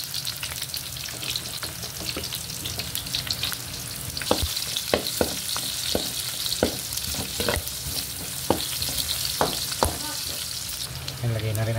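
Onions sauté in a pan with a loud, continuous sizzle, close up, and repeated sharp scrapes and taps of a stirring utensil throughout.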